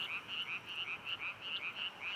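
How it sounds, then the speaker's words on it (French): Frogs croak outdoors at night in Korea, a steady chorus of rapid, evenly pulsed trills repeating about every quarter second, moderately loud and continuous with no talk over it. "C'est des grenouilles."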